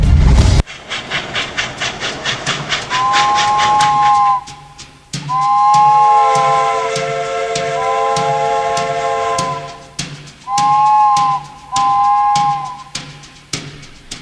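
Train on a railway in Guatemala, heard close with a fast rhythmic clatter of wheels, then several long, loud horn blasts separated by short pauses, with hissing in between.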